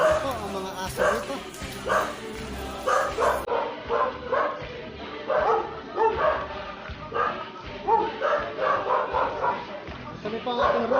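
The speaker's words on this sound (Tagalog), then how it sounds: "Ito ang mga aso dito." Dogs bark again and again in quick bursts, loud and close, with a few yips mixed in, while people talk over them.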